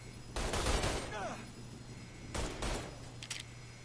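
Gunfire in the Mafia 3 video game: a couple of loud bursts of shots with echoing tails, separated by a short lull, over a steady low game hum with a voice talking briefly.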